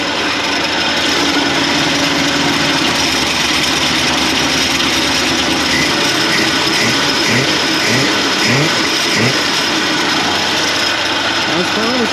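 A 1981 Jeep Wagoneer engine idling, a rough continuous mechanical chug and clatter with an uneven rhythmic pulse becoming more pronounced midway, close and loud, with some talking underneath.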